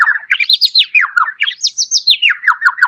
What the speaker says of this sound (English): And first we'll hear birds,